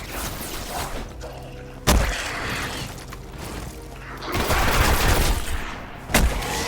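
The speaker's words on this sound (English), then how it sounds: "Sniper rifle shots these guys have are pretty powerful" Sniper rifle shots in the video game Destiny, two sharp loud cracks standing out from a busy background of game sounds and other gunfire.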